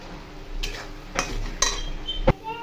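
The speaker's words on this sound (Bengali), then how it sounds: "ভালো করে এবার নাড়িয়ে নেবো।" A spoon scrapes and clinks a few times against a pan while powdered motichur laddu mixture is stirred into sugar syrup, soft scraping strokes over a faint low hum, close and quiet.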